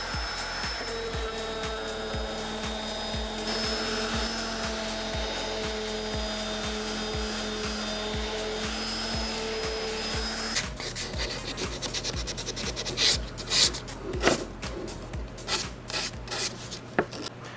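A wooden shadow box frame is sanded by hand in rapid, rhythmic back-and-forth strokes for about ten seconds. Scattered scraping and handling noises of the workpiece follow.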